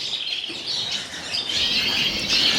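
Mealey Redpolls in a bird room give a busy overlapping chorus of thin high chirps and twitters, continuous and fairly close.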